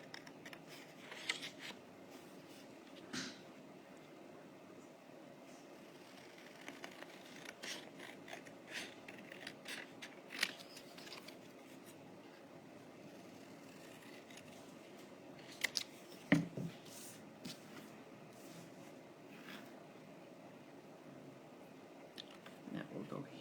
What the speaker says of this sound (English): So cut out your journaling piece.